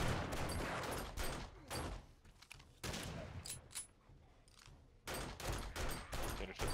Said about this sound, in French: Tiens, le shotgun de la tête, ça lui fait mal quand même.